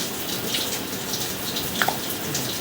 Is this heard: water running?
yes